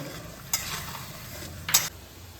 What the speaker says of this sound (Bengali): এবার এখানে আমি দুটো টমেটো পেস্ট করে রেখেছি এটা এই মশলার মধ্যে দিয়ে দিচ্ছি আর খুব ভালোভাবে কষিয়ে নেব